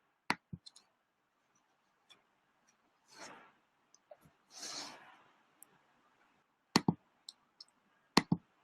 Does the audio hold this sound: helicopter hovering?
no